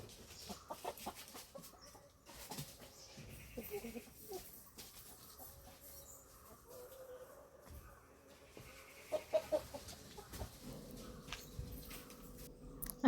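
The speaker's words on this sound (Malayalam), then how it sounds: "കൂട് തുറന്ന താമസം കോഴിയെല്ലാം ചടി ഇറങ്ങി ഓടിയിട്ടോ" Chickens clucking and scurrying as they run out of an opened coop, irregular clucks and squawks at close to middle distance, fairly faint, with scattered rustling and no talking.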